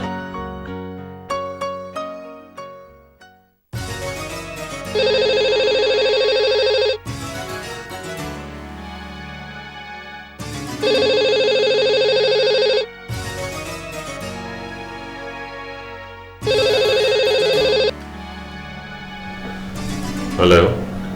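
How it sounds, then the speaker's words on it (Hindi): A telephone rings repeatedly as a call is placed in a Pakistani drama scene: three loud, steady electronic ring bursts with pauses between them, after a brief run of musical notes. "मैं अफजल से फोन करके पूछती हूँ कि वो कब आ रहे हैं।"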